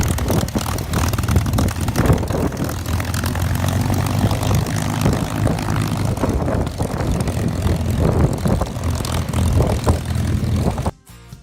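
A P-51 Mustang WWII fighter with the Texas Flying Legends taxis at an airshow in Houston, its propeller engine giving a loud, steady, rumbling drone that holds for the whole stretch before cutting off abruptly at the end.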